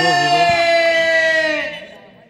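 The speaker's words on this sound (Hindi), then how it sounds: "बहुत जोर से तालियां मारी है भाई" Crowd cheering and shouting at a local football match, a loud sustained roar with whoops and children's voices near the microphone, fading out toward the end.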